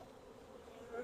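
Honey bees buzz faintly at an open hive during a varroa mite check, a brief steady drone with no talking.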